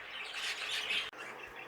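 A heavily variegated young Fife canary in a show cage gives a bright chirping call that stops abruptly after about a second. It is close and clear, with no voices.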